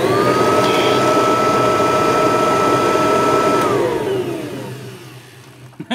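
A vintage vacuum cleaner motor runs loud and close with a steady high whine, then it is switched off and the whine slides downward and fades over the last couple of seconds, ending with a click.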